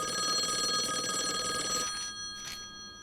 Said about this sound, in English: we need to pick up the phone